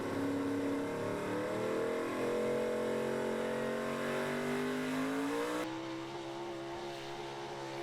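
A 4x4 pulling truck called the Danger Ranger, a Big Block truck from Virginia, roars at a truck pull, its engine revving loud and sustained with rising pitch before easing slightly near the end.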